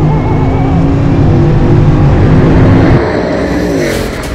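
Bugatti Bolide track-only hypercar with an 8-litre quad-turbo W16 engine, loud and close, its engine droning and rising steadily with harmonic whine, then dropping in pitch near the end as it eases off.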